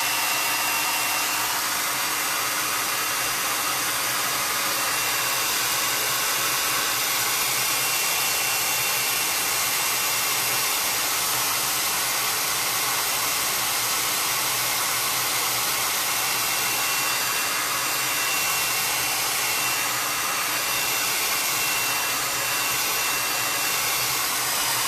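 A hair dryer runs continuously for the whole stretch, drying paint on a T-shirt. It is a loud, close, steady blowing whoosh with no talk.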